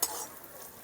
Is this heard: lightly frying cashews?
yes